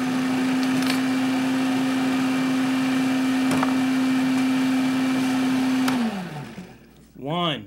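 A food processor chops garlic with a loud, steady, high motor whine. It cuts off and winds down near the end, and a short rising whir follows.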